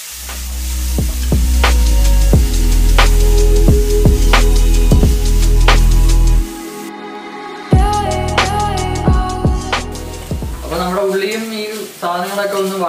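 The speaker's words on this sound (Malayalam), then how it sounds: "ഉള്ളിയും, നമ്മൾ ഇടിച്ചു വെച്ച ഉള്ളി, പച്ചമുളക്, വെളുത്തുള്ളി, ഇഞ്ചി, ഇത്ര സാധനങ്ങൾ നമ്മൾ ഇതിലിട്ട് ചൂടാക്കി എടുക്കും" Crushed onion, green chili, garlic and ginger frying with mustard seeds in hot oil, a loud steady sizzle with scraping stirs. It briefly drops, then resumes more softly while a voice talks over it.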